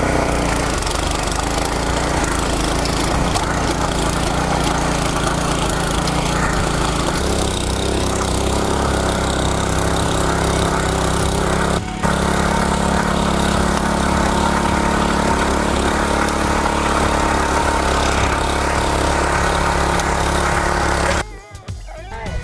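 A KTG 210PRO two-shaft rotary tiller with a 7 hp engine runs steadily and loudly for about 21 seconds, with a brief dip near the middle, then cuts off abruptly.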